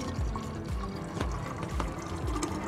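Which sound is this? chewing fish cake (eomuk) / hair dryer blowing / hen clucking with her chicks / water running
water running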